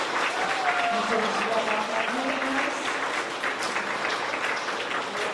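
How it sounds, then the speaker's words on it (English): A room full of people clapping steadily at a grades 4-6 school awards ceremony, with scattered voices and a few cheers mixed into the applause. "let's give them a round of applause"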